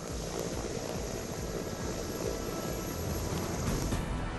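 An MI-17 helicopter at an Indian Air Force display, a loud, steady, roaring rotor and engine drone filling the whole stretch, close and continuous with no talking.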